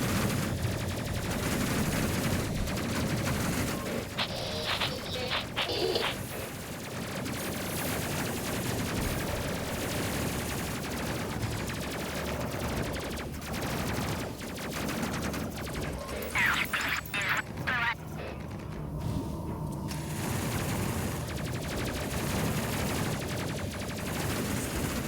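Guns fire from a bomber in the space combat game Space Crew: Legendary Edition, with bursts of rapid shots over a dense, steady roar of game noise and no one talking.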